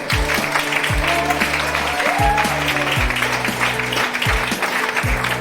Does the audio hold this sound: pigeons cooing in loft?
no